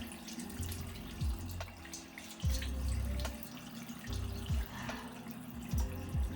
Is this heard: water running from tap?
yes